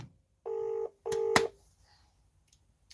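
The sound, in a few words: telephone call ringing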